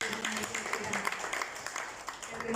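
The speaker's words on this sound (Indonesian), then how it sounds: "Kita beri tepukan yang paling gemuruh." Congregation applauding in a church, a dense burst of clapping sustained through the whole moment, fairly faint and blended with voices.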